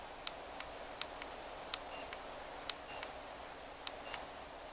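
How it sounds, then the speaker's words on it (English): A hair styling tool beeps several times as its temperature is set, giving short, crisp electronic tones spaced roughly a second apart over a quiet background, close and clear. "I like that it beeps when you do it."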